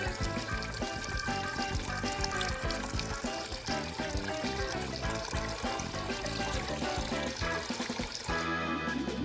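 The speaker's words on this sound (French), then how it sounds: "nous avons besoin de remplir l'aquarium" Water pours and trickles continuously to fill an aquarium, a dense, busy splashing stream holding steady for several seconds before cutting off abruptly near the end.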